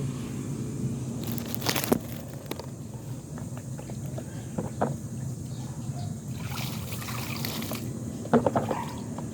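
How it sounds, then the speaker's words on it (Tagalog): Reused household water splashes and trickles onto vegetable plants in a garden, soft irregular pouring and dripping with a few louder splashes, faint and close under a steady outdoor hum. "Yung mga ginamit na tubig guys, so yun ang ididilig ko sa halaman, mga gulay ko."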